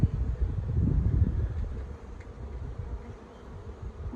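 Low, dense buzzing of many honey bees close by in a seven-frame Flow Hive 2, a steady droning hum with some breathy rustle.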